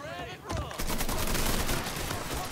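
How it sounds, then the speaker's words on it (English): Rapid AK assault rifle fire in the video game Mafia III, dense loud bursts of shots with a short lull before the firing builds, and a voice speaking faintly underneath. "Let's switch to the AK."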